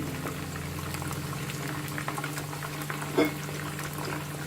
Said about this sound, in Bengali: আমি প্রত্যেকটা চিকেনের পিসগুলি আমি ব্রাউন করে ভেজে তুলে নিব